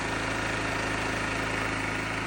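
A small petrol generator engine idles steadily nearby, a continuous rumbling drone with a fine rapid vibration and no pauses.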